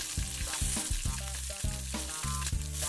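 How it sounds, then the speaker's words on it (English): Green beans frying and charring in a hot pan for a pork mince stir fry, a steady close sizzle with rhythmic stirring and scraping knocks, no voices. "Fry it for 3 minutes in total, but make sure that you stir it every minute so it won't get burnt."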